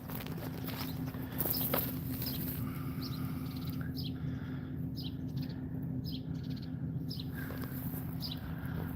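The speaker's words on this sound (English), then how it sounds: "a lot of birds here" Small birds chirp outdoors in short, scattered high calls over a steady background hum, with soft footsteps moving along beneath them.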